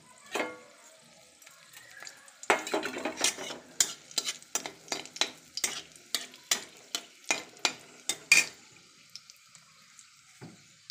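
Halved dried red chillies are tossed and stirred in hot oil in a wok, giving a steady run of sharp scraping taps and crackles over a faint sizzle, close but fairly quiet.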